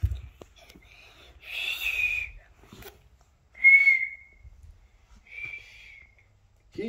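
A person outdoors whistles to call a dog: three short, high whistled notes separated by pauses, clear and moderately loud over quiet background rustling.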